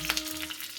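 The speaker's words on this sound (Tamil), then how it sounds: "கடுகு வெடிக்கிறது" Mustard seeds splutter and crackle in hot ghee while a rasam tempering is cooked. A steady sizzle runs underneath, with a few sharper pops near the start, and it is fairly quiet and close.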